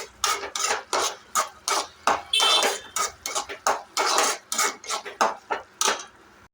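A spoon stirs turmeric into a vegetable gravy in a pan, scraping and clinking against the metal in a steady run of short strokes, close and fairly loud with no talk.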